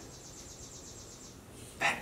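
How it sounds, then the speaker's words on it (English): A bird sings repeatedly in a steady run of high, rhythmic chirps, moderately loud and slightly distant, with a brief sharper sound near the end. "That bird is really loud out there."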